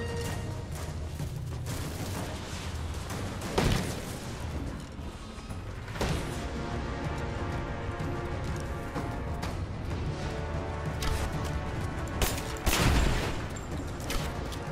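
Gunfire from the video game Rise of the Tomb Raider: a dense, steady din of battle with a few louder booming shots standing out above the continuous noise.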